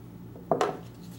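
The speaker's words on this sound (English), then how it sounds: "But I did go ahead and get a flat tip screwdriver. Let's see if we loosen these up, if it'll enable us to get the knife out." A flat tip screwdriver works loose the screws on a Buck 893 knife sheath, giving two quick, close metallic clicks in a row against a quiet background.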